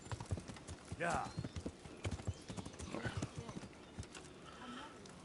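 Horse hooves clip-clop in the medieval video game Kingdom Come: Deliverance, a steady close trotting rhythm with a brief whinny-like swell near the start and a voice talking intermittently over it.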